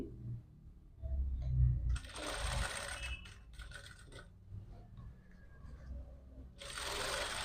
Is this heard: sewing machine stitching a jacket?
yes